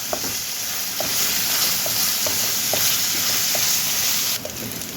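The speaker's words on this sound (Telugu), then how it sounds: "పచ్చిమిర్చి వేయించుకుందాము ఇవన్నీ కూడా దారగా వేగాలండి" Green chillies and curry leaves frying in oil in a pan for a potato, meal maker and coconut masala curry, giving a steady close sizzle with occasional stirring clicks throughout, no talking.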